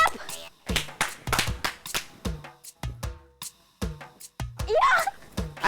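Sharp hand claps ring out several times in an uneven rhythm, with people talking between them in a sitcom scene.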